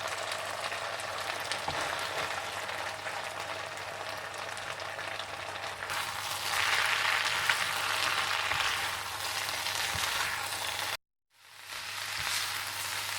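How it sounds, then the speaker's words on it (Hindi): Chicken fries in a pan with added capsicum, tomato and cabbage, a steady close sizzle that swells briefly as the vegetables are stirred, then cuts off and resumes. "और जब चिकन अच्छी तरह से भुन जाए तो आप इसमें शिमला मिर्चें, टमाटर और बंद गोभी डाल दें और अच्छी तरह से मिला लें।"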